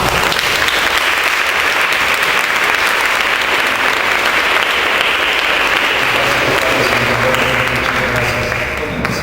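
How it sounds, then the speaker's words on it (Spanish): Loud, dense audience applause at a Spanish-language conference welcoming a priest speaker, a continuous roar of many hands clapping throughout, easing slightly toward the end. "Lo recibimos con un fuerte aplauso."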